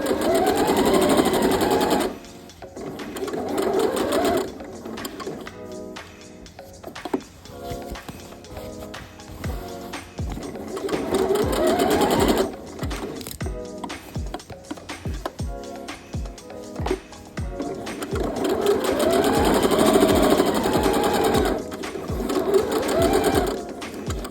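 A sewing machine stitches a denim dress side seam in long, loud, continuous runs, pausing briefly between passes with a few clicks and handling sounds in the gaps.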